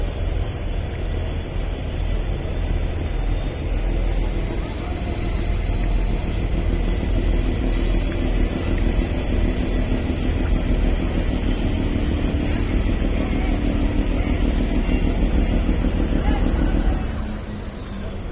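A passenger launch docking at a new river ghat near Borhanuddin: a loud continuous engine drone and rumble throughout, steady and near, cutting off abruptly at the end.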